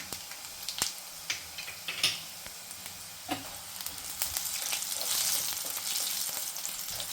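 Crushed raw garlic, urad dal, chana dal, mustard seeds and cumin seeds frying in hot oil for a tempering, a steady close sizzle with scattered crackles and pops that grows denser toward the end.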